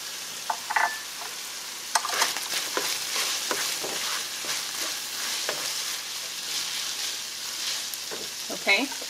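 Ground beef and spices including cumin being stirred in a hot pan, a close crackling sizzle broken by scraping spatula strokes and clinks, with brief background noises but no clear talk.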